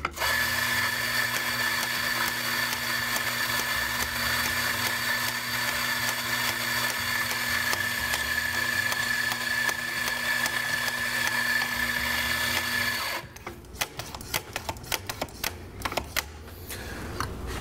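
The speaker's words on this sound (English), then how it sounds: "we're going to start grinding by turning the grinder on and operating the dosing handle immediately" An espresso coffee grinder whirs steadily at close range for about thirteen seconds, its motor humming with a constant high whine, then stops, leaving sharp clicks and clacks of the dosing handle being worked.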